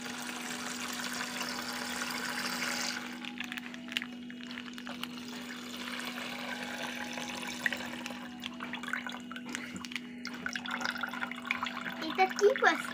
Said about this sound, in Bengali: এটা কি পড়ছে? জল, জল পড়ছে।